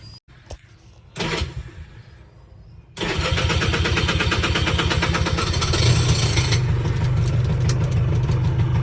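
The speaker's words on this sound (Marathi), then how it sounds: "आता आपली रिक्षा चालू झालेली आहे." An auto rickshaw engine cranks with a couple of brief sputters, then catches and settles into a loud, steady, rattling idle close by.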